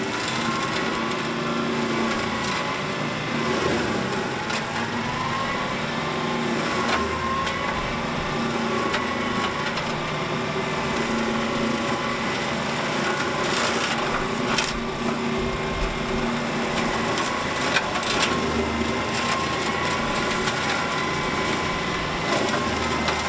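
Brush mulcher on a hydrostatic tractor shredding wood, a continuous grinding whine with intermittent cracking and crunching bursts, fairly close and steady, no voices.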